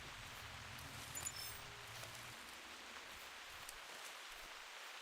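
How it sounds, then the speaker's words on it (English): Steady, soft rainfall in theHunter: Primal hisses evenly over the landscape, a faint continuous wash with no voices. "And now it's raining here."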